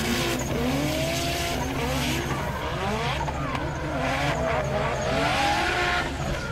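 A drift car at a Pure Drift round of the Zeknova Attack Challenge screams along at high revs with continuous tire squeal, the engine note rising and falling steadily and loud throughout.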